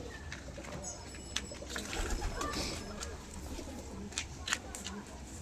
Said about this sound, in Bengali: এই দেখুন পায়রা দুটো ফেস অফ বিউটি দেখুন